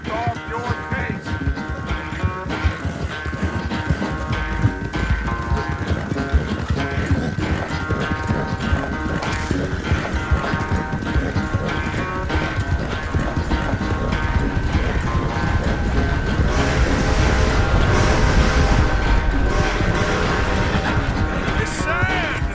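Horse hooves in Red Dead Redemption 2 beating a continuous rapid clip-clop at a riding pace, loud and close throughout, under a bed of music and voices talking.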